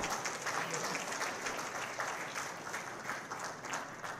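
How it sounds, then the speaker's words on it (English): Sustained applause from an audience at a government signing ceremony for three IIT Bombay MOUs, a steady, dense patter of clapping that holds evenly for several seconds without voices over it. "I believe it deserves a huge round of applause before we move on"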